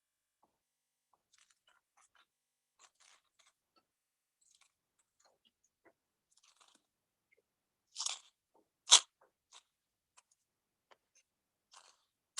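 Crispy baked cornbread edges crunch in a few close, sharp bites, with two loud snaps standing out among faint crackles in an otherwise quiet space.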